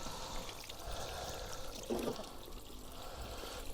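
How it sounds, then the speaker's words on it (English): Water poured onto a bed of straw pellet mulch around garden blueberry plants, a steady close trickle and splash running continuously, with a slightly stronger gush near the middle. "So let's have a look and see what happens when we add water."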